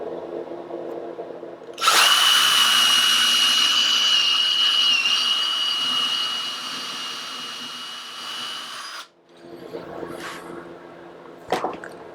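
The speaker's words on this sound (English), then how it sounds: "I'm using one of my oldest drills. It's a Ryobi" A Ryobi cordless drill whirs loudly and steadily for about seven seconds while building an ottoman serving tray, then cuts off, followed by softer handling noises and a sharp click.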